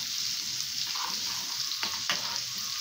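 Coriander tossed onto garlic frying in rendered fat gives a soft, continuous hiss and crackle, with a couple of faint clinks from a spoon near the end.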